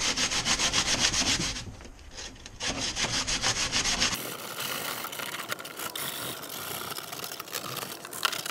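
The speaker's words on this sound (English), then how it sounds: "I'm just gonna fold it up straight and just sand it like this." Folded sandpaper rubs by hand over a custom vent insert for an MR2 Spyder in quick, even back-and-forth strokes, loud and close, before it shifts to a softer, scratchier rubbing.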